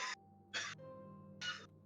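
Three short, close coughs, each a sharp breathy burst separated by brief pauses over a faint steady background hum.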